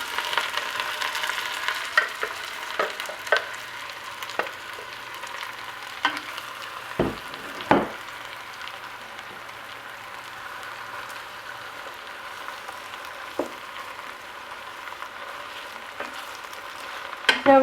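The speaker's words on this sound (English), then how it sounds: "Now we let the onions saute just a little bit, maybe 2-3 minutes" Onions and garlic sautéing in about three-quarters of a cup of olive oil in a single stew pot give a steady, soft sizzle and crackle, with occasional clicks and scrapes of stirring, fairly close and with no talk.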